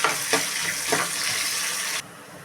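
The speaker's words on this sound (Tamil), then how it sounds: "பூண்டு கருவேப்பிலை வெங்காயம் வெங்காயம் போட்டு நல்லா வதக்கிக்கிடணும்" Onions, garlic and curry leaves sauté in a pan for a Thoothukudi-style fish curry, giving a loud, steady sizzle broken by a couple of stirring scrapes before the hiss suddenly drops away.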